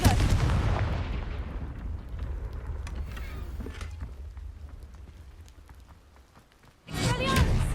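A Confringo fire spell from Hogwarts Legacy erupts in a loud, booming blast that slowly decays into a rumbling tail, followed by a second sharp burst near the end.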